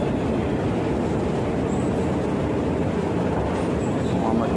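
Inside an MRT metro train, a steady loud rumble and broadband roar of the carriage in motion continues throughout, with faint high squeals of wheels on track.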